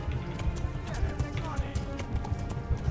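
Rhythmic hoofbeats of a galloping horse in the video game Kingdom Come, steady and fairly close, with game sounds and some voices mixed underneath.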